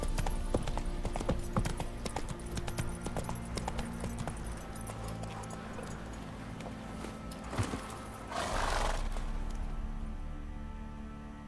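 Roach, a horse in The Witcher 3 video game, beats out rhythmic clip-clopping hooves, steady and fairly close, before a rushing burst of movement near the end.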